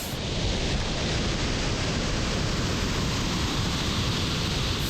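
Steady roar of Burgess Falls, a paddle-in waterfall reached by kayak, heard up close as loud, unbroken broadband rushing water with no voices over it.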